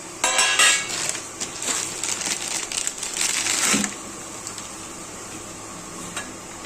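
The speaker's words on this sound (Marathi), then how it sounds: "हा गूळ किसून घ्यायचा आता" A block of jaggery is rubbed against a hand grater in a village kitchen. Quick, rough scraping strokes come in bursts for a few seconds, then stop and leave quiet.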